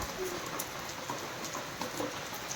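Heavy rain keeps falling as runoff water starts to flow, a steady close hiss with scattered small taps and patters throughout.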